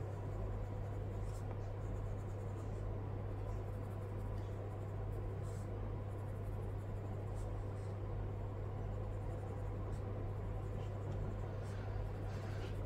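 Watercolor pencil lightly coloring a tropical flower petal on paper, a soft continuous scratchy rustle over a steady background hum, close and quiet, with small irregular strokes.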